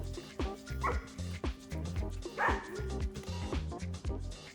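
Dogs bark in short, repeated bursts with yips and a few whimpers mixed in, close and lively over a steady rhythmic thumping beat.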